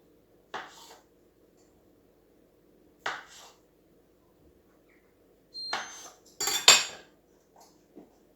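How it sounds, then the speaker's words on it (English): A knife cuts through par-cooked potatoes on a board, giving several separate short scraping taps with quiet gaps between, close and clear with no talking. "Par cooked, run a knife through the middle of those."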